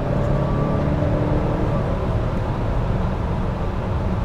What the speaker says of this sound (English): All right, then let's accelerate.